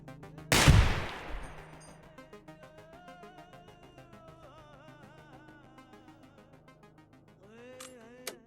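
A single sharp gunshot cracks loudly in the Receiver 2 game, then rings out over a quiet, tonal musical background with a faint metallic click near the end.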